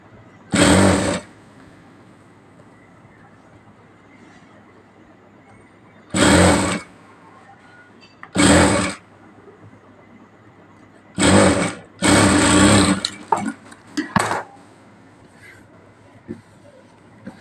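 Sewing machine stitching a puffy sleeve, running in five loud, steady bursts of about half a second to a second each, separated by pauses with a low background hum.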